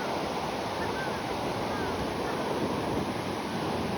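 Sea waves washing in steadily along a Japanese shoreline, a dense continuous roar of surf mixed with wind noise on the microphone, with no clear breaks between swells.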